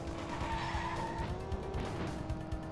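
Tires screech and skid through a sharp turn in the Nintendo 64 racing game Cruis'n World, a fairly quiet continuous squeal over a steady engine drone.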